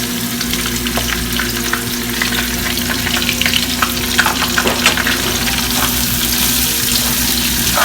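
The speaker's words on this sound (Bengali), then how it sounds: "পেঁয়াজটা ভাজতে হবে অ্যাটলিস্ট ফাইভ মিনিট" Onions and green chilies frying in oil for a dried loitta fish curry, a continuous bright sizzle with stirring scrapes and a clatter of the spatula, no talking.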